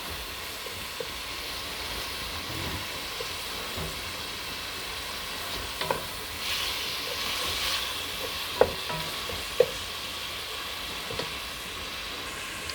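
Ground beef frying in a pan, a steady broad sizzle with occasional scrapes and clicks of stirring, no talk.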